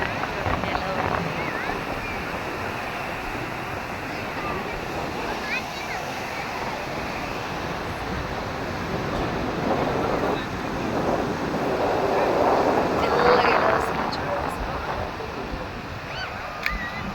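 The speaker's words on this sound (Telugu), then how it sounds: "సముద్రం" Continuous rushing wash of sea waves on a beach, with wind buffeting the microphone, steady throughout and swelling slightly toward the end.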